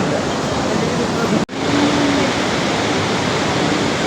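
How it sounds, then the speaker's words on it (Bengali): Hot spring water at Manikaran flows and gushes in a loud, steady broadband rush close by, with a brief dropout near the middle and a hint of a voice underneath. "জলের স্রোত আর গরম জল উষ্ণ ধারা দেখো"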